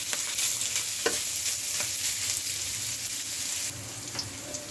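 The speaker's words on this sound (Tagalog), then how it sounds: "naluto na yung ating pork. Nagmantika na rin siya." Pork fries in its own rendered fat with a steady close sizzle, scattered spatters and pops, and the light scrape of stirring, dropping slightly in level near the end, with no talking.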